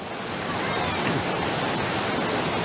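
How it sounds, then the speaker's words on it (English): Rushing water outdoors forms a steady, loud, broadband roar that stays constant and fills the whole stretch without pauses. "I got the rushing water."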